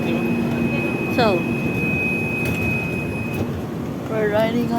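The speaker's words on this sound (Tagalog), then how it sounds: "we're riding on the train" Steady rumbling ride noise inside a moving passenger train, continuous broadband roar with a faint high whine and brief tonal chirps, loud and close throughout.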